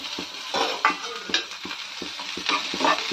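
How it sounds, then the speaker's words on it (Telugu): Chopped tomatoes frying in a pan, a steady sizzle broken by short, regular scrapes of a spatula stirring them, close and fairly loud with no talking. "ఇప్పుడు ఇందులో బాగా ఫ్రై చేస్తాను"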